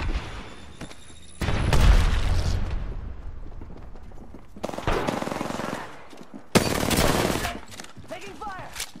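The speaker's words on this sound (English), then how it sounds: "Taking fire!" Automatic and burst gunfire in an Apex Legends match, loud and close, with heavy volleys around two seconds and again near five and seven seconds, mixed with game effects and chatter.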